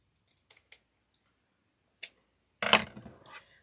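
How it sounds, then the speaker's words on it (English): Scissors snip through paper while a kit elf leg door hanger is trimmed at a craft table: a few faint early clicks, one short cut, then a louder, longer crunching cut, with no talking. "Looks like we need to cut just a little more here."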